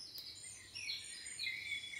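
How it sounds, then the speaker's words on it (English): Recorded birdsong played from a children's garden sound book, a quiet run of high chirps and trills repeating over about two seconds with no talking. "I'm so happy the birds are back."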